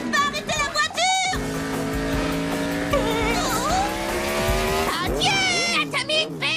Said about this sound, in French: Je n'arrive pas à arrêter la voiture.